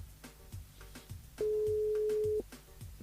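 A single telephone ring-back tone while a radio station dials a listener on air, one steady beep lasting about a second over background studio music and noise.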